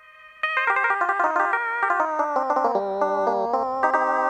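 A Casio MA-220 electronic keyboard sounds preset voice 0C after a quiet moment, giving a bell-like, echoing tone in a descending sequence of sustained notes, loud and clear with no talking.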